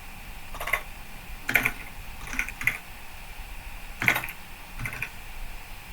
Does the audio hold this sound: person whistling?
no